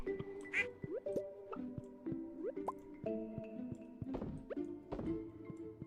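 Duck quacks in Stardew Valley Expanded pop up briefly amid busy farm-game music, plinks and drips, the calls small and fairly faint against the melody.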